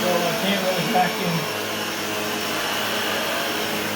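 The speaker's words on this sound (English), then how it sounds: "Vacuum" A Shark Lift-Away ZU560 vacuum cleaner with a self-cleaning brushroll runs steadily with a loud, constant whirring roar, close up, with no voices.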